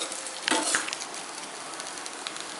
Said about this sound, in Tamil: செவக்க வறுக்கணும் தேங்காயை.